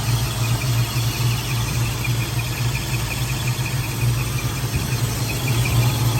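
A 1970 Ford Mustang convertible's 302 two-barrel V8 idles smoothly with a steady low rumble and faint mechanical whir, unbroken for several seconds, close and alone without speech.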